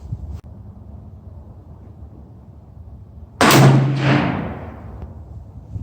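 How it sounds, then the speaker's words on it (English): One sharp, loud rifle report from a Browning BAR or BLR, fired open-sighted from a bench at 25 yards outdoors, cracks out of steady wind noise and then decays into a rolling echo. "I want to show you how I could shoot on the bench open sight at 25 yards. I'm gonna just take 2 shots."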